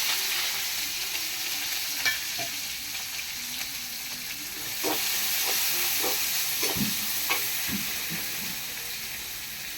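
Onion and green chili frying in a pan for a raw banana dish with ginger and garlic, a steady close sizzle with intermittent stirring scrapes and clinks throughout.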